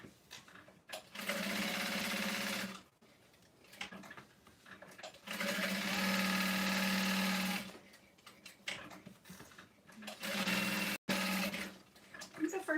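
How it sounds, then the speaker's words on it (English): Sewing machine stitching a basting line along the outer edge of a Divina tote bag beneath the hinge, running in several long loud bursts with short pauses between, close and steady with a humming whir. "I'm going to be doing that by just sewing along the outer edge underneath the hinge from the outer edge."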